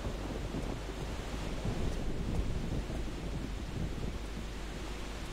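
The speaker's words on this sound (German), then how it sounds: "Hier ist ein schöner Wasserfall." A waterfall in a Tomb Raider custom level video game gives off a steady, faint rushing roar of falling water that continues unbroken and on its own.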